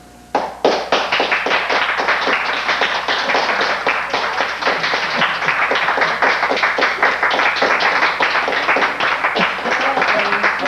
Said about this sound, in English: Don't clap so much.